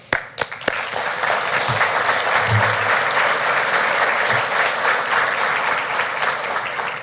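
A large audience at the 2025 State of the City Address for Mayor Mike Matson applauds loudly and steadily, with the clapping building quickly after a few sharp early claps and holding for several seconds.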